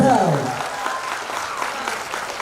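Audience clapping at an awards ceremony for a badminton tournament runner-up, a steady patter of applause that starts under a fading voice and continues alone.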